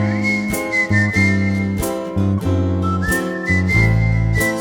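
A flute, or a whistle, plays a bright, lilting Cologne carnival melody over a bouncy accompaniment with thumping bass and drums, each phrase ending in sustained high notes.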